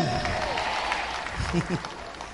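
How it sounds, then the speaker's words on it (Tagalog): Scattered, modest applause from a church congregation at a Filipino worship service, a soft patter of clapping beneath a preacher's voice talking over it. "Yung palakpak nyo, hindi kumbinsido eh."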